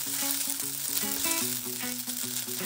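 Spaghetti stir-fried in a pan with ketchup and garlic granules, a continuous close sizzle under bright background music, with no one speaking.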